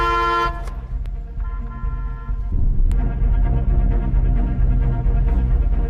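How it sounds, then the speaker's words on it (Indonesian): A loud car horn blares once, then a steady droning tone follows, with a sharp click midway; close and prominent. From the film Hard Hit (2021). "ia pun lekas membunyikan klakson beberapa kali untuk memastikannya"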